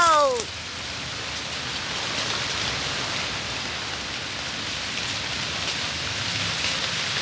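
Heavy rain pours down in a rainforest as a dense, steady hiss that fills the scene, close and even from start to finish after a brief opening sound.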